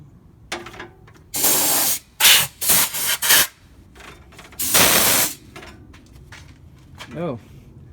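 Bursts of aerosol spray hiss loudly in several short blasts under a 1990 Mazda RX-7, with quieter gaps and faint handling noises between them.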